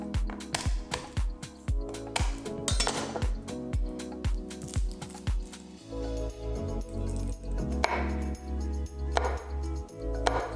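A knife chops garlic cloves on a cutting board, a quick run of close taps and clicks for about six seconds followed by duller, scattered knocks and scraping.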